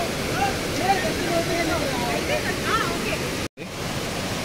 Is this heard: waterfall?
yes